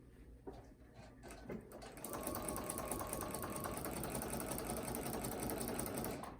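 A sewing machine stitching a quilt near a seam, starting after a few faint clicks and then running in a fast, steady mechanical whir close by until the end.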